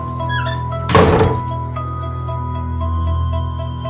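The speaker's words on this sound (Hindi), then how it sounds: "हवेली का दरवाजा अपने आप बंद हो गया है।" A haunted mansion door slams shut on its own with one heavy, close thud, over a low droning background that continues afterwards.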